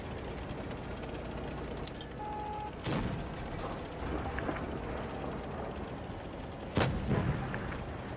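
Tank cannon shots in WoT Blitz on a small map, featuring T49 and KV-2 tanks: two sharp booming blasts roughly four seconds apart, each trailing into a short rumble over a quiet background of engine hum and game ambience.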